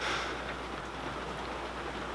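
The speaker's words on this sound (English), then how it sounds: "It's raining really hard right now." Hard, steady rain pours down outside a building under construction with plastered exterior walls, a dense even hiss of drops holding at a constant level with no voices.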